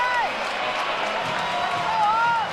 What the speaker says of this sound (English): And the crowd coming to their feet after the great work by Johnny Paulus to get that rebound